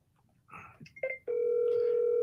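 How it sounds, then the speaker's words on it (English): An outgoing telephone call: a few brief clicks and tones, then a steady ringing tone that holds to the end, following a short bit of quiet talk. "And what I do, I call one more time just to see."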